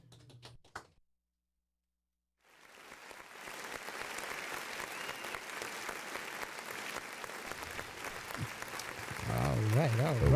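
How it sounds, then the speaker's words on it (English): Audience applause at a local sheriff's report event swells after a short silence into sustained, dense clapping that holds steady and grows louder toward the end, with a voice briefly heard at the start. "Let's give them a big round of Give them applause."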